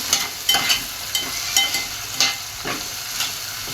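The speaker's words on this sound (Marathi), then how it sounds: "आता एक टोमॅटो टाकून घेऊया टोमॅटो पण छान परतून घेऊ" Chopped tomato and onion sizzle in a hot pan, with repeated scraping stirs that make sharp bursts over a steady frying hiss; no voices.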